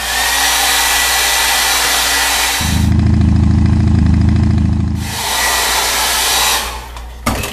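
Hair dryer blowing over a freshly finished painting of a mantis shrimp, a loud steady whir that runs alone for most of the clip, with a stronger low rumble through the middle stretch before it eases back.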